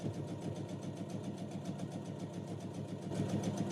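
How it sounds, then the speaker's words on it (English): Sewing machine running steadily while stitching the side seam of a fabric Santa sack gift bag, a continuous close mechanical whirr with a fast, even needle rhythm throughout. "We'll sew this all the way up right and stop right before the casing."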